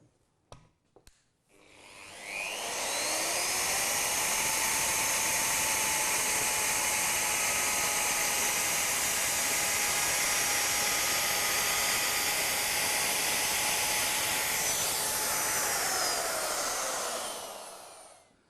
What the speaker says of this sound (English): I've installed a chamfering bit in the router, and it has a little ball bearing on here